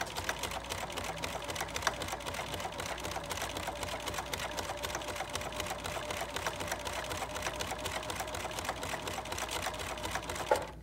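A serger sewing machine stitches a buttonhole, giving a steady, fast mechanical whir with rapid stitching clicks that runs unbroken for about eleven seconds at moderate volume, with no talking.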